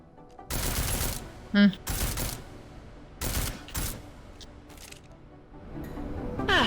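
Suppressed gunshots from Deus Ex: Human Revolution, a handful of muffled, clipped bursts spaced unevenly, moderately loud in the foreground, with game sound effects between them and no talk over the shots.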